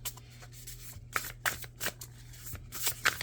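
Tarot cards are shuffled in several quick riffling bursts, soft and close, over a low steady hum with no talk.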